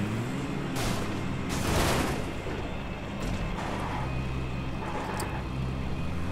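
A car driven in the PUBG Mobile game gives a steady, loud engine drone throughout, with a couple of brief rough bursts and rumbles rising over the motor noise.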